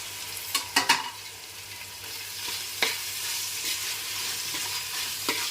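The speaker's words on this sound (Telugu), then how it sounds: "అల్లం వెల్లుల్లి పేస్ట్ బాగా వేగిన తర్వాత టమాటా కూడా వేసేసుకుందాం" Tomato frying with ginger-garlic paste, sizzling steadily in a hot pan while a spoon scrapes and clatters against the pan a few times; no voices.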